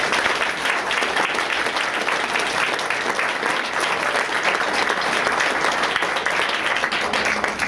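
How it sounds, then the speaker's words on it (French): An audience gives sustained, dense applause at a tribute event, loud and steady throughout with no pauses. "Alors je pense que là-dessus, Stephen, ça mérite vraiment une bonne main d'applaudissement."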